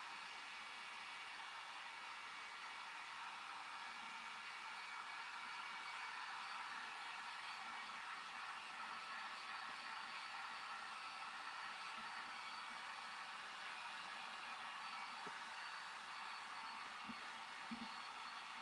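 A hair dryer blows a steady, even whoosh to dry paint on a birdhouse, running continuously at moderate level with a few faint knocks near the end.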